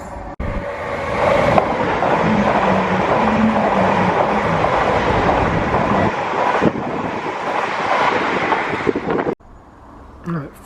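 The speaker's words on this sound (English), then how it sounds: "I can see the train coming, it's right at the end of the line there" A train on the Greater Anglia railway rolls past a rural level crossing, a loud, steady rushing roar with wind buffeting the microphone that lasts about nine seconds before it cuts off abruptly.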